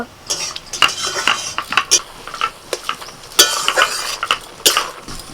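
Whole dry red chillies frying in a pan, heard as brisk, close metallic scraping and clicking of stirring over a light sizzle, in quick irregular bursts.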